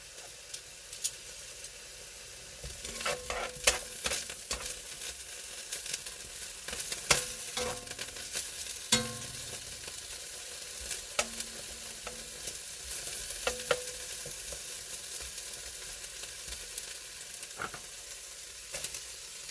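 Shrimp and vegetables stir-frying in a wok with chives, a steady close sizzle broken by scraping and clattering stirring strokes.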